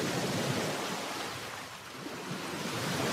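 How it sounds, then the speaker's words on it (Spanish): Sea waves wash in a steady, full surf roar, swelling and receding gently, alone without voices. "¡Qué sueño tan bonito! ¡El mar!"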